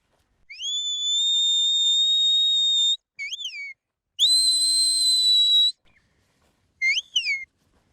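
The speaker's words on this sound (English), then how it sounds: "give him that clockwise whistle to tell him that he was correct" A series of high, clear shepherd's whistle blasts to a working sheepdog: a long held note, short rising-falling chirps, another long note, then two quick sliding pips.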